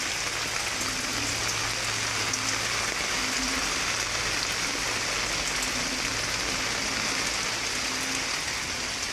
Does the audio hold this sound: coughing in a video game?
no